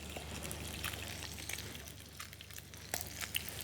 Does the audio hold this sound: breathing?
no